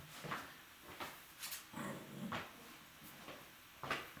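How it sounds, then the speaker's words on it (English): A pet dog being let in, with a few soft thumps, scuffs and a faint whimper spread over several seconds, fairly quiet and close, with no talking. "I got to let my dog in my bed really quick"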